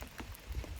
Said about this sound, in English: you just sit in the rain, and because you can't get out of it